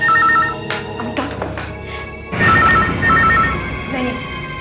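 An old-fashioned telephone rings in bursts, with loud electronic trills repeating at intervals and some background movement between rings.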